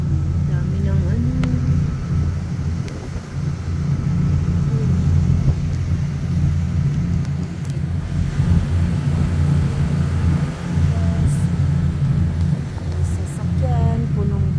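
Busy road traffic with trucks and other vehicles, a steady, loud low engine rumble and passing drone throughout, with people talking over it.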